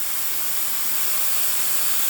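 Air from a compressor-fed airbrush in a spray booth hisses loudly and steadily, a dense unbroken spray of noise with no pauses and no voices.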